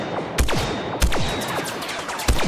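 Blaster fire from Star Wars Battlefront 2 arrives as three sharp, punchy shots spaced roughly a second apart, each followed by falling zipping streaks over a steady background hum.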